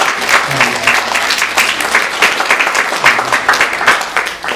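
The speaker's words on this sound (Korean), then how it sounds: "다 같이 우리 박수로 축하하도록 하겠습니다." A church congregation at a Sunday service claps together for members' birthdays, a dense, loud, steady wash of many hands lasting several seconds with no talk on top.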